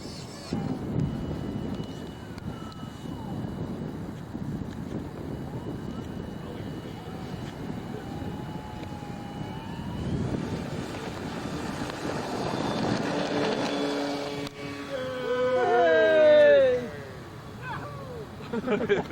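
A model airplane flies at Mission Bay Field, its engine a faint, wavering whine drifting near and far under wind noise and talk, then swelling into a louder rising tone near the end.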